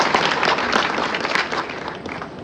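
An audience at an Independence Day celebration in a district women's hospital in Bareilly gives steady, fairly loud applause, a dense wash of clapping from a crowd close by.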